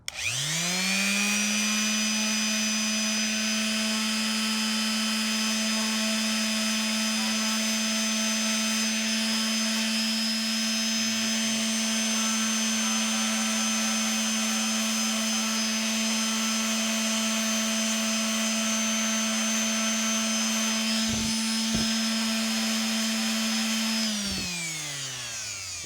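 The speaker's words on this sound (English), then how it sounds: "With a sanding machine, it's faster and easier." A power sander runs on wooden hexagon shelves at a constant high whine for a long stretch, then winds down at the end.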